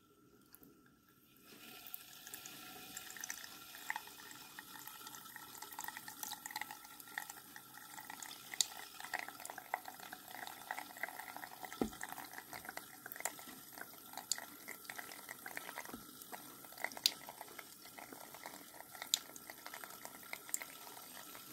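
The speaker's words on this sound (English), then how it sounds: "I'm just gonna put the water on." Tap water runs steadily and close up during a salon-style hair wash, rinsing hair with a soft continuous splash and occasional drips throughout.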